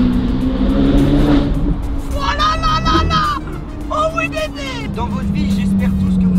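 A Ferrari engine revs as the driver presses the accelerator. The car noise is close and continuous, with rising whine sweeps in the middle, and voices talk and react over it throughout.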